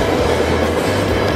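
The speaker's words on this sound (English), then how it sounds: "the new Brisbane XPT, front loco 2018, arriving onto platform 4 at Central" A Brisbane XPT passenger train with a 2018 front locomotive rolls into platform 4 at Sydney Central, a loud close rumble with low engine drone and rail noise filling the whole stretch.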